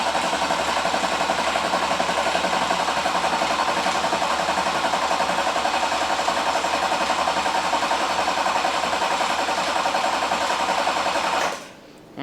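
A Duramax diesel engine swapped into a Jeep Wrangler runs steadily at a loud, even idle for the full stretch after its first start, then cuts off abruptly near the end.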